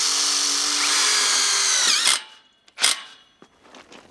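Power drill driving self-tapping screws into a greenhouse bracket, a steady high whine for about two seconds that cuts off, followed by short clicks and a brief burst of the drill.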